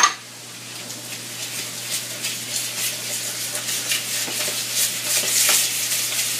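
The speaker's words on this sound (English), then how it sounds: "Mix it up good." A sugar scrub mixture is stirred in a container, making a soft, continuous gritty scraping close by.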